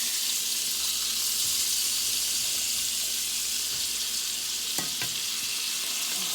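Quail frying in butter in a pan, a steady soft sizzle with a few brief clicks of a utensil against the pan, close by and fairly quiet.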